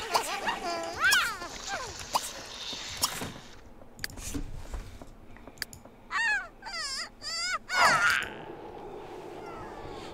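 A dog in The Sims 3 video game whimpers and whines in a series of short, rising and falling yelps, some repeated rapidly in bursts, close and fairly loud, with someone talking between them.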